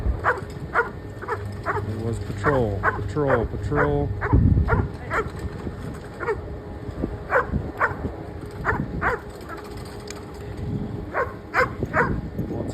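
Dogs riding a chairlift at a Colorado ski area give several sharp barks and yips early on. They sound fairly close, over a steady lift hum, and people talk throughout.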